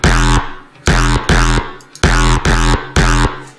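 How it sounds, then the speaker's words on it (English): Synth notes under a heavily overdone stereo widening effect, six loud, evenly spaced short stabs in a steady rhythm, each ending in a quick decay, no voices. "So this kind of just adds some stereo-ness to the sound."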